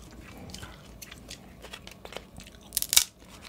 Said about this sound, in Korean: 대게를 먹다 보면